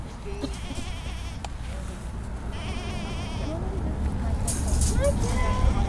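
Baby goats bleating repeatedly in short wavering cries among people in a busy, lively setting, the calls rising above a constant background of chatter and crowd noise that grows slightly louder toward the end.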